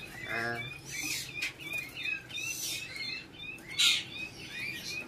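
Small caged birds in a bird shop chirp and tweet repeatedly at close range, with bright overlapping calls and brief wing flutters throughout, over a low background murmur.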